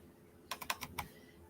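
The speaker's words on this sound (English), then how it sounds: "I'm sitting here clicking all the wrong buttons on my new laptop." Five quick clicks on a new laptop keyboard, crisp and close, in an uneven burst lasting about half a second against a quiet hum.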